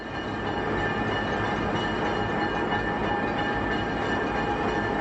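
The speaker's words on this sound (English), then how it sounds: "The train clears Utah Junction and heads for the Front Range of the Rockies just west of Denver." A diesel train rolls past Utah Junction near Denver, heading for the Front Range, with a continuous loud, close rumble of engine and wheels and a steady tonal drone throughout.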